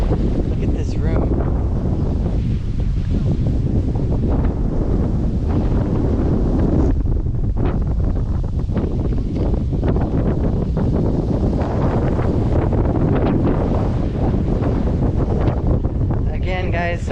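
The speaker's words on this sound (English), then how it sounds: "sorry about the wind" Strong outdoor wind buffets the microphone at an archaeological site in Troy, Turkey, producing a constant, heavy roaring rumble throughout, with faint voices partly buried beneath the gusts.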